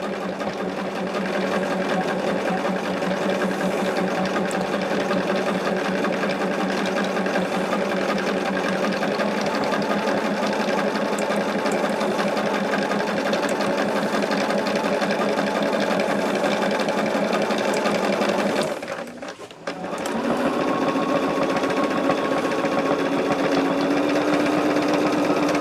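Close sewing machine stitching a bag with a steady, fast mechanical whir and hum, running continuously before a brief stop near the end, then starting again at a slightly different pitch.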